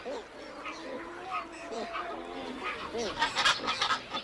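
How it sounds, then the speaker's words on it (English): Large colony of pelicans calling in a river delta wetland of water channels, reed beds and forest, a dense chorus of honking, quacking cries, growing louder and busier toward the end. "Hidden amidst this maze of water channels with their forests and reed beds are enormous breeding colonies of pelicans, some containing hundreds of pairs."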